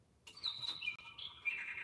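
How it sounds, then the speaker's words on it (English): A single bird chirps and trills in short, high, bright phrases, fairly faint and close with nothing else around it, heard near a crafting table. "I hear you, bird."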